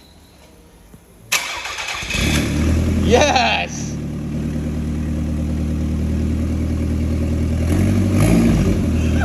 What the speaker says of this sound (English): So I'm led to believe this is an engine on a pallet.